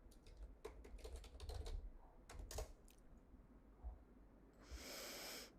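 Keys tapped on a computer keyboard in quick irregular bursts, faint and close, with a short hiss of breath near the end.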